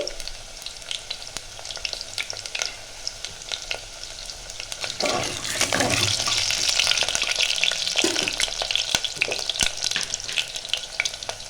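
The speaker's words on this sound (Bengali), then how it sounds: "তেলটা গরম হয়ে গেছে, আমি আলুগুলোও দিয়ে দেবো।" Potatoes frying in hot oil in a home kitchen, a close, steady sizzle and crackle that swells louder midway as pieces settle into the pan, with occasional scraping stirs and no speech.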